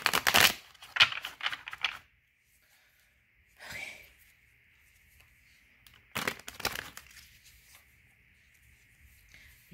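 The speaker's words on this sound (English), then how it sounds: "These cards are a little bit hard to shuffle, so I have to split it up." A stiff deck of cards is split and shuffled close by in two quick bursts of rapid riffling and flicking, separated by a quiet stretch with a faint steady hum.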